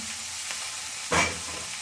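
Chopped green beans hit a hot oiled frying pan, a steady bright sizzle with a sudden louder hiss burst partway through, close and alone.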